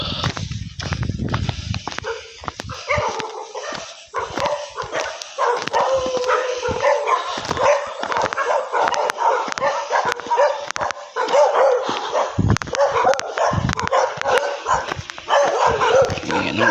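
A dog barks repeatedly in short sharp bursts, fairly close, by a backyard chicken coop, while a person talks over much of it.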